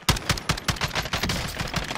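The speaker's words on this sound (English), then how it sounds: "Oh, he's shooting you, John." Automatic gunfire in Call of Duty: Warzone, a rapid, loud stream of shots in quick repeating bursts over two seconds, with no talk over it.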